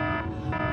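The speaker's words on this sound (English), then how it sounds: "It's the standard iPhone alarm tone." The standard iPhone alarm tone plays as a loud, steady electronic chime pulsing in a quick repeating pattern, with no talking over it.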